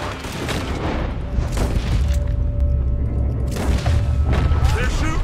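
Gunfire coming from a building in a Red Dead Redemption 2 shootout: loud booming shots and cracks in bursts over a constant rumble of battle noise, with voices talking throughout.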